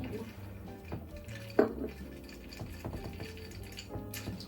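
A stir stick clinks and rattles against the glass of a cranberry holiday drink, with one sharper knock amid light clatter and a voice murmuring in the background.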